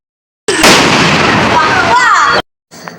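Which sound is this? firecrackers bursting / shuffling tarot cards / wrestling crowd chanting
firecrackers bursting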